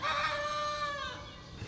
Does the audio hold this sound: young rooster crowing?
yes